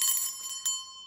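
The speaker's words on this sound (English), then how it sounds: "So you can either sing or just ring a bell." A small handheld bell rung once to cleanse a room, giving a bright metallic strike with a long sustained ringing tone that slowly decays, plus a faint second tap near the end, heard alone without talk.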